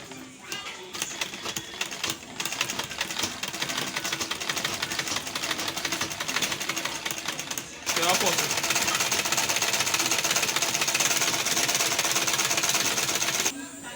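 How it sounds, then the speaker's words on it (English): A sewing machine runs steadily while stitching footwear material, a continuous buzzing mechanical whir that steps up louder partway through and holds before easing off near the end. "we want to sew with the aid of our machine"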